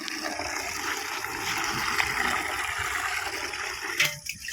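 Water filling in a bathroom, a steady rushing flow with a brief splashing surge near the end, close and continuous with no talk.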